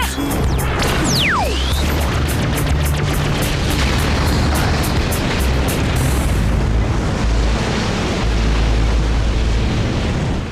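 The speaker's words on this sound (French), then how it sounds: "Il a actionné le canon laser!" A laser cannon fires in the Totally Spies cartoon, a falling zap sweep followed by a loud, sustained roaring explosion with crashing debris that fills the whole stretch.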